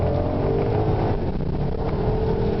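Engine of a Porsche Panamera Turbo with a 500-horsepower twin-turbo motor while driving, a steady, fairly loud low drone with a hint of revving and no voices.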